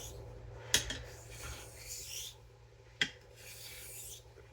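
Straight razor, a Parker and a Drew Dick, drawn in slow, even honing strokes across a sharpening stone, giving a soft repeated rasping scrape with two sharper clicks at the stroke ends, close and quiet.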